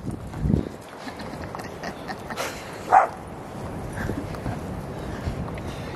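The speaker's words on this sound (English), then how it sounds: "Got a wiener dog barking at us." A small dachshund barks a few times at a distance, sharp isolated yaps over outdoor beach ambience and footsteps at Cape Lookout on the Oregon Coast.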